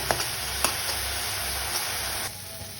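Chickpea leaves sizzle steadily in hot oil, a close, even crackling hiss with a couple of faint clicks, then slightly quieter near the end.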